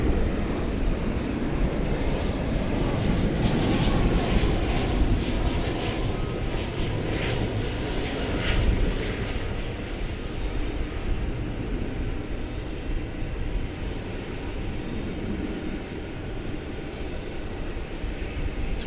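An airplane on the runway at DFW Airport at night gives a steady, broad engine roar that holds throughout, loudest early and easing slightly toward the end, with no talk.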